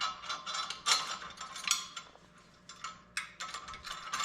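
Metal clicks and ratcheting as a steel parallel is bolted in place ahead of tack welding, a run of close, moderately loud mechanical ticks and clanks with short pauses, no voices.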